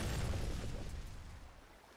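A blast set off in the video game Ghost of a Tale: a single broad, rumbling explosion that starts loud and decays slowly over two seconds, with no talk over it.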